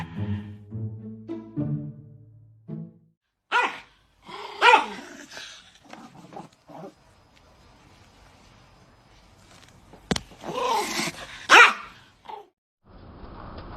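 A dog barks and growls in scattered bursts, some sharp and loud, others low and rumbling, with quieter gaps between, close to the listener.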